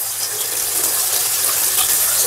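Water gushes steadily from a tap or hose onto an electric fan being washed with soap, a loud, continuous close-up splashing without pause.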